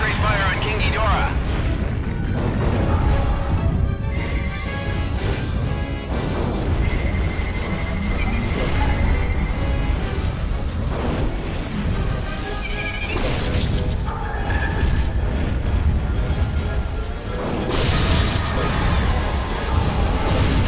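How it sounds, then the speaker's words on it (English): A loud, chaotic barrage from the Godzilla game on Xbox 360, with military forces pouring fire onto King Ghidorah amid crashing impacts, booms and monster cries, continuous and dense throughout. "Fire! Concentrate fire on King Ghidorah."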